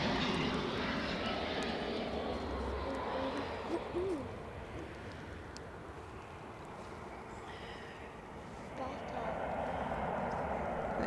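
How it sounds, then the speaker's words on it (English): An airliner landing at Edinburgh Airport, probably a flight arriving from London Stansted, gives a steady broadband roar that eases slightly midway and swells again near the end, with voices talking faintly underneath. "A good landing."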